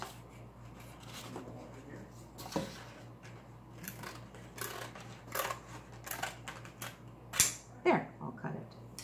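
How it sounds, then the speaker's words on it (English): Scissors snip through paper while cutting out an ice cream cone shape, a string of short, soft, irregular crisp cuts close by over a low steady hum. "I'm going to follow along the line and cut my ice cream cone"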